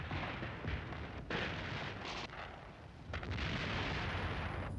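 Battleships and cruisers of a naval task force fire on seaward coastal defences at Oran. Heavy, rumbling artillery blasts pile into a dense, continuous roar with a few sharper booms. No one speaks.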